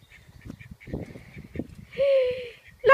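Ducks loose in a garden yard give a few close, nasal quacks near the end, after a stretch of soft shuffling and footsteps.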